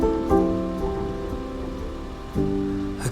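Steady autumn rain falls in an even wash of patter, with low tones ringing beneath it and a few faint swells. No one speaks.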